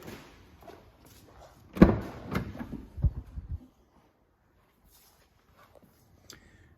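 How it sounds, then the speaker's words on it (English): The sliding side door of a 2018 Volkswagen Transporter Kombi T6 rolls and thumps shut with a solid clunk and some rattling, close by, then quiet with faint knocks; no speech. "Twin sliding doors on this one too."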